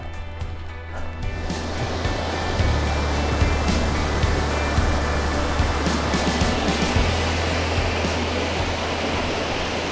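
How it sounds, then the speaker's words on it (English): Continuous rushing roar of falling water, broad and steady throughout, like a waterfall heard from close by on the Wonderland Trail, with no talking. "It's a pretty waterfall."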